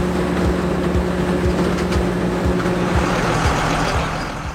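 A Fendt Favorit 824 tractor drives between vineyard rows at a winery during harvest, its steady diesel engine drone loud and constant with a low rhythmic pulse and no voices.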